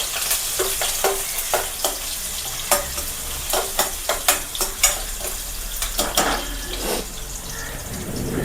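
Garlic sizzling in hot oil in a home kitchen, with a steady hiss, sharp spoon-on-pan stirring clicks at irregular intervals, and a brief burst of running water near the end.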